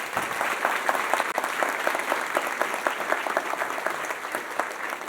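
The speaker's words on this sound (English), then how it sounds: "How about a round of applause?" A university audience applauds a professor being welcomed to the stage at a State of the University event, with dense, lively clapping and some sharp individual claps standing out, sustained evenly for several seconds.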